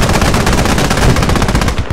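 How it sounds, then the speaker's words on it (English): Rapid automatic gunfire in the video game Squad, a dense, loud stream of shots crackling almost without pause from start to finish. "Where are those shots coming from?"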